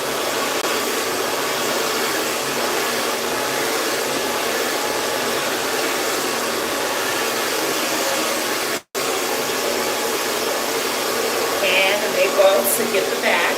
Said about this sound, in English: I love this blow dryer.